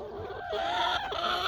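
A Novogen laying hen clucks and squawks in short, close, fairly quiet bursts, with no talk over it.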